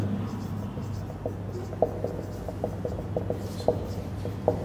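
Marker or chalk writing on a board during a biology lecture, heard as quiet scratchy strokes with periodic taps at a steady pace, close by beneath a low room hum.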